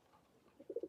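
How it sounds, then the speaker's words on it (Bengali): Pigeons drinking water let out a few soft, low coos, bunched in a short burst at the end after near silence. "এই যে এগুলো আছে কবুতর, পানি খাচ্ছে"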